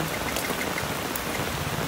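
Heavy rain falls at a riverside camp during a flash flood. It makes a dense, constant hiss of drops striking nearby surfaces, steady throughout with no voices.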